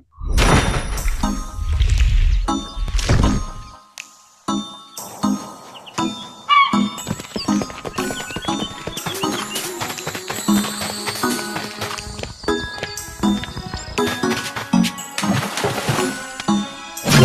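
Footsteps and water splashing from the Sea of Stars video game trailer: busy clattering steps, thumps, splashes and chimes layered in a dense, loud game sound mix, with no talk.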